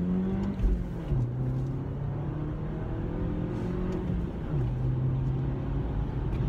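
A 2019 Toyota Corolla XSE hatchback accelerating, heard from the cabin as a moderate engine drone that climbs in pitch, drops at each upshift, and climbs again, with steady road noise underneath.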